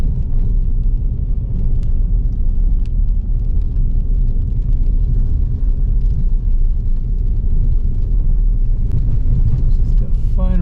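Vehicles pass on a rough mountain road at Yankee Boy Basin, an ATV and a car going by: a steady loud engine and tire rumble holds throughout, with a brief higher rise near the end.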